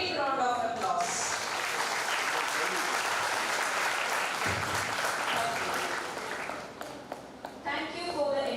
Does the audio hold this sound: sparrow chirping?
no